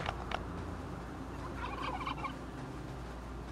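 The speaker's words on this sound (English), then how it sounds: "Man, turkeys everywhere. It's gobble gobble." A video game turkey gobbles in a quick warbling burst over a steady low background hum, fairly faint and alone without talk.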